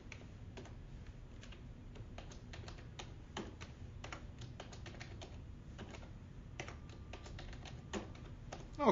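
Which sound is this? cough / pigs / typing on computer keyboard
typing on computer keyboard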